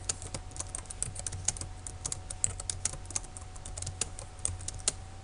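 Rapid, irregular keystrokes clatter on a computer keyboard while code is entered for a C++ tic-tac-toe programming project, a steady stream of close, crisp clicks over a faint low hum with no talking.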